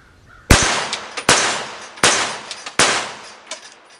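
Rifle shots fired at body armor, 5.56 and 300 Blackout rounds from a CMMG Resolute rifle: four loud, sharp outdoor reports spaced under a second apart, each followed by a ringing decay, no talk.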